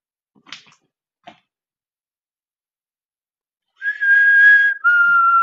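A couple of faint brief clicks, then silence, then a loud sustained two-note whistle in a castle, the pitch stepping down for the second note.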